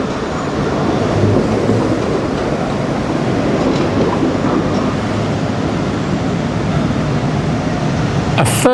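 A tram runs along a grass-verge track in Toulouse, giving a steady rumbling roll that swells slightly and then holds, with a faint click near the end and outdoor breeze behind it.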